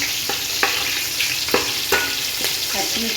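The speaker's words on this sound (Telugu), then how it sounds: "బిర్యానీ ఆకు, లవంగి మొగ్గ, దాల్చిన చెక్క, ఇలాచి కొన్ని వేసుకొని వేయించుకోవాలి." Whole bay leaf, cloves, cinnamon and cardamom frying in hot oil: a loud, steady sizzle close by, broken by several sharp scrapes of a stirring spoon against the pan.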